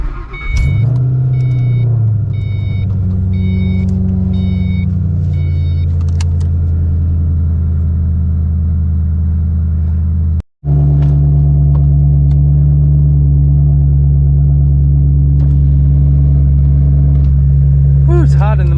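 Ford Mustang GT engine running with a deep steady rumble that rises into a rev and settles to a loud constant drone inside the car, with a brief break partway and faint beeps early on.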